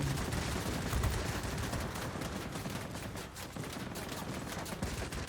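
Sustained rapid gunfire from the IL-10M aircraft's guns in World of Warplanes, a dense continuous rattle filling the whole stretch at steady loudness.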